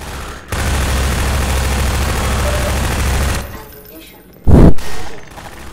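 Sustained automatic gunfire in Half-Life 2 on hard difficulty rattles loudly for about three seconds, then a pause and a sharp heavy blast followed by a shorter burst, with a voice talking during the action.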